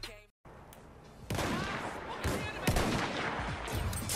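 Sniper rifle fire in the Battlefield 1 beta: sharp, loud cracks ring out over a dense bed of battlefield noise, with a voice talking through it.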